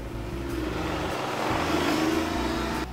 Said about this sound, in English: why are you riding a little motorcycle?